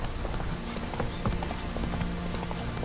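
Rhythmic clip-clop of horse hooves trotting steadily in The Witcher 3: Wild Hunt, with a low tonal hum of game music underneath.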